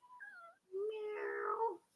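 A young female kitten, newest of several household cats, gives a short two-part meow followed by a longer, louder drawn-out wailing meow, close and alone.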